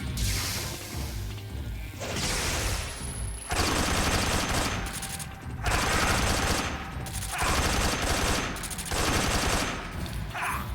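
SVD rifle fire in Metal Gear Solid 3 comes as repeated loud bursts of shots and crashing impacts, arriving in clusters with short quieter gaps between them and no voices over it.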